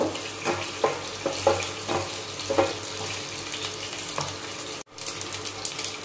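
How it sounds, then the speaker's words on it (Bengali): Bay leaves, dried red chilli and ginger frying in oil for sukto, giving a steady crackling sizzle with intermittent spatters and utensil clicks, and a brief drop in sound near the end. "তেজপাতা আর আদা। একটু ভেজে নেব।"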